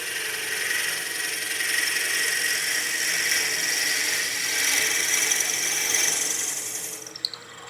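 A drill bit bores into a wooden pizza cutter handle spinning on a lathe, a steady close hissing grind that swells slightly and stops abruptly near the end.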